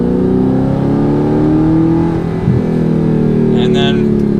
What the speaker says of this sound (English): I'm gonna do a 3rd gear pull from 30 miles an hour in comfort mode